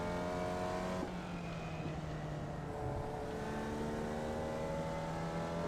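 Race cars in the iRacing video game hold a steady, droning engine whine, with a shift in pitch early on as another car runs alongside and passes, the engines blending into a continuous moderate roar.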